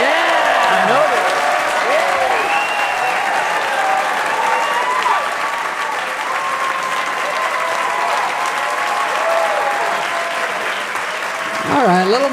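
Studio audience applause on a comedy podcast set, loud continuous clapping with scattered voices talking over it, easing slightly before speech breaks through near the end.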